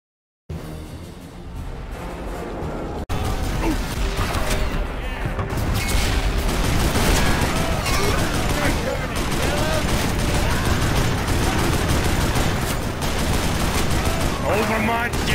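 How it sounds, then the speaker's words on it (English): Gatling gun fire in the Western video game Call of Juarez: Bound in Blood, a dense, continuous roar of rapid shots and booms that starts abruptly and stays loud throughout, with battle noise and shouted voices mixed in. "Ray, take the other Gatling gun."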